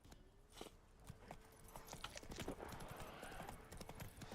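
Roach, Geralt's horse in The Witcher 3, trots in a steady, close clip-clop of hooves that runs the whole time over a soft game ambience.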